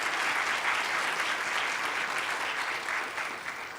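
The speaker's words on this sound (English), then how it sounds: "So round of applause for" Sustained applause from an audience at a college presidential briefing, following the announcement of an outstanding educator award; a steady, dense wash of clapping that holds for the whole stretch, with no voices over it.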